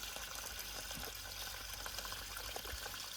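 Water poured onto hands and rubbed with soapnut to work up a lather outdoors in a backyard garden in Dapoli, Ratnagiri, Konkan, a soft continuous trickle and wet rubbing, faint and steady with no talk.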